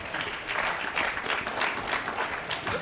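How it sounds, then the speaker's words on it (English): Audience applause at a forum on athletes giving back, a dense, even wash of clapping from a sizeable crowd that swells and pulses steadily for the whole stretch, with no talk over it. "That deserves applause"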